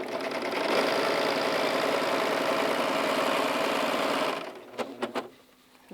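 A Pfaff Admire Air 7000 coverlock serger stitches at speed with a loud, steady mechanical whir. After about four seconds it stops, leaving a few clicks and clunks as the presser foot is handled.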